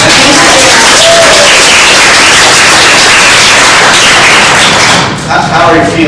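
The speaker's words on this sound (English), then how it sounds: "Round of applause." An audience at a sales and marketing meeting applauds in a dense, loud, continuous wash of clapping that fills the whole stretch before easing slightly near the end.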